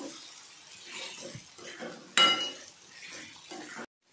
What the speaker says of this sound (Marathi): हे पण छान या ग्रेव्हीमध्ये मिक्स करून घेते